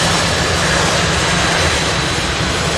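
A jet airliner coming in to land at Louisville International makes a loud, continuous engine roar with broad rushing noise, near and alone with no voices.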